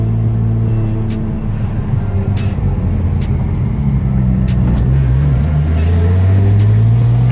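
A Nissan Patrol fitted with five turbos rumbles with a deep, steady engine drone up close, its pitch swelling upward near the end as the revs climb.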